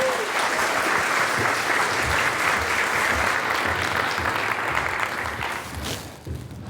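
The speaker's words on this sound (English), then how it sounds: "Let's give a round of applause" Sustained audience applause at the 2022 Milgard Business Leadership Awards ceremony, a dense wash of clapping from a large crowd that holds steady for several seconds, then thins and fades near the end.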